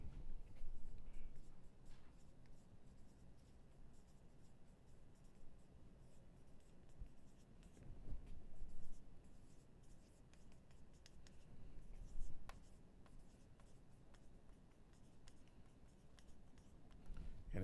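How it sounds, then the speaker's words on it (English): A lecturer writes by hand, with scratchy pen or marker strokes in short bursts and pauses, faint and close, with no talk. "Let me write that."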